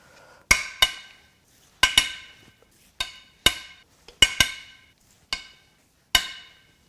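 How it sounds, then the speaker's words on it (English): A breaker bar snaps loose the cylinder head bolts on a failed 2021 Subaru WRX FA20DIT engine, giving nine sharp metallic cracks with short ringing tails, spaced irregularly and close by, with no talk between them. "Time to crack the other 6 head bolts loose."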